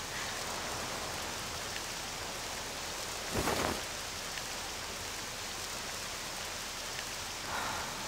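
Steady rain falling in the video game Octopath Traveler II, a constant even hiss with a brief louder swell near the middle and no voices.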